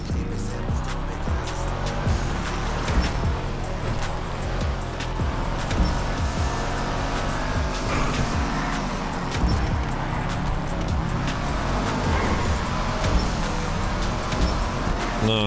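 A rally-tuned Subaru 22B, the Sultan RS Classic in GTA Online, races with a continuous loud engine roar and tire noise, steady throughout with no pauses.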